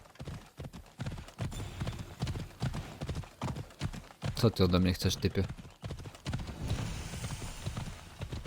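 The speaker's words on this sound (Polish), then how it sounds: "Ja nie muszę, koń mnie sam prowadzi," Hooves of a horse in the video game Assassin's Creed Odyssey clip-clop in a steady, close rhythm throughout, with a loud rattling burst in the middle, while someone speaks over them.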